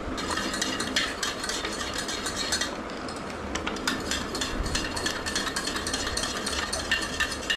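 A spoon scrapes and clinks steadily against a bowl while homemade chocolate ice cream mixture is stirred, making a continuous rhythmic clatter at close range with no talking.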